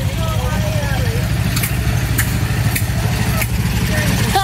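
A tractor engine idles with a steady low rumble throughout at the Iowa State Fair, with a few sharp clanks and faint voices in the background.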